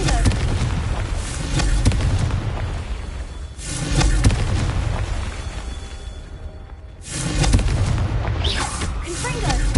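Repeated booming blasts of the Confringo fire spell in Hogwarts Legacy on PS5, loud rumbling bursts in waves with short lulls between, alongside game sound and a voice.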